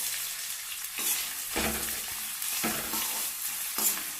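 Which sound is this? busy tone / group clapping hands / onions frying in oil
onions frying in oil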